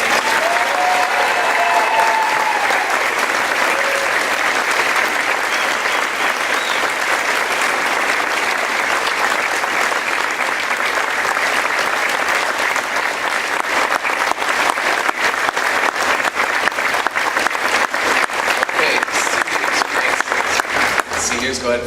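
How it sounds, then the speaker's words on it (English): Audience applause for a graduating class of 2018 at a school band spring concert, loud sustained clapping from a large crowd that holds steady throughout. "Let's get another round of applause for the class of 2018"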